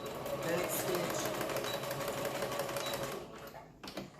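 Sewing machine running a zigzag and back stitch on a gathered top or dress, a fast, even, close mechanical whir with rapid stitching clatter that stops near the end, with a voice talking over it.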